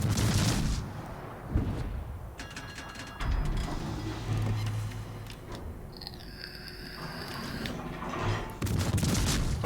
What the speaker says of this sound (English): Another solid salvo.